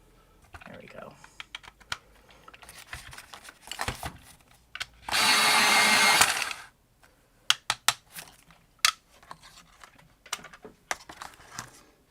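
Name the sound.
pencil sharpener running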